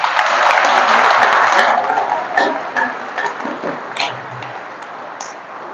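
Loud applause from a yoga class, dense clapping at first that thins into scattered individual claps and fades toward the end.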